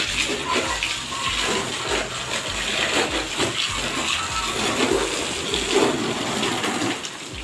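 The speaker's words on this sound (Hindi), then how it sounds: "देखते हैं मोटर चल रही नहीं चल रही है" Water gushing and spraying from a pump-driven hose during outdoor washing, a continuous hissing splash with an electric motor running underneath, steady and close throughout.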